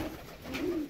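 Pigeons coo softly in a short, low, throaty burst that swells toward the end, with no talking over it.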